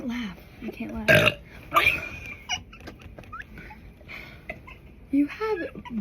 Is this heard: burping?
yes